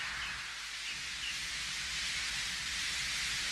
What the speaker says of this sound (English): But Henry only blew steam at him.